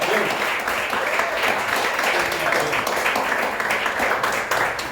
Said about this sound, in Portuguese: Vamos aplaudir a Jesus Cristo mais uma vez.